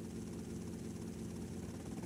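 Helicopter in the video game GTA Vice City, a steady low rotor and engine drone held at an even level throughout, with no talk over it.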